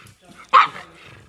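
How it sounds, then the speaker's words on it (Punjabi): A pug dog lets out a single sharp, loud bark at other dogs, close by, with quiet background before and after. "ਇਹ ਤਾਂ ਉੱਪਰੇ ਕੁੱਤੇ ਦੇਖ ਕੇ ਬਹੁਤ ਭੌਂਕਦੀ ਆ"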